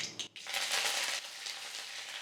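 Mustard seeds and cut dried red chillies fry in hot coconut oil, a close, steady bright sizzle with faint crackles, preceded by a brief clink.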